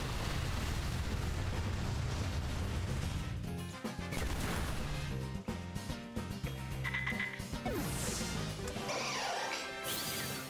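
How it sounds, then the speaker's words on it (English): Repeated Voltorb explosions in the Pokémon Violet video game, loud crashing blasts and booming bursts stacked over game music, with whooshing effects and sparkling chimes toward the end. "Guess he had enough of those explosions."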